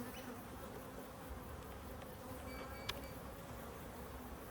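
Honey bees swarm densely around an opened hive in a continuous close buzzing drone, with one brief sharp tick partway through.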